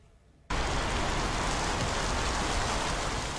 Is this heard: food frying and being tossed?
no